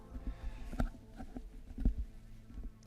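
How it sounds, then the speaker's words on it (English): A gaming headset is handled and adjusted, giving soft, close rubbing and tapping thumps in a scattered rhythm, quiet overall with no speech. "Sorry about the noise, but I do need to fix my headset here"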